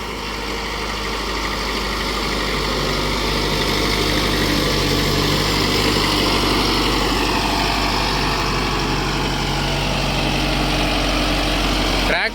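A Mahindra NOVO 655DI CRDI tractor with a cultivator attached runs steadily at close range, its diesel engine giving a loud, continuous low throb with a constant mechanical hum for the whole stretch, and no voices.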